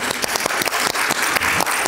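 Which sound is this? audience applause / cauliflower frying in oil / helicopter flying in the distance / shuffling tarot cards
audience applause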